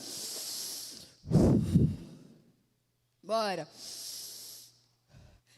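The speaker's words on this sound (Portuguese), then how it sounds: "faz assim, ó, respira fundo assim, ó." A woman leading a deep breathing exercise inhales and exhales audibly, two loud breaths close to the microphone separated by brief pauses, with a short spoken word between them.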